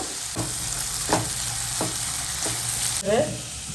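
Chopped garlic sizzles lightly in a pan for a Katla fish dish, a steady close frying hiss broken by a few soft stirring scrapes, with no talking.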